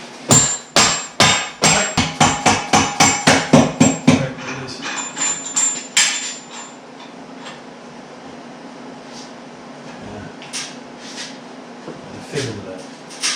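A hammer strikes metal in a quick run of about fifteen sharp, ringing blows that speed up slightly. Then come a few scattered knocks and handling sounds over a low steady hum, with people talking in the shop.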